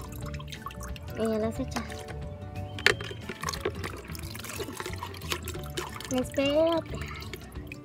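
Water drains and drips off a batch of soaked water beads (Orbeez) during a vacation play session, a steady wet trickle with scattered drips, under an adult's speech and children's voices nearby.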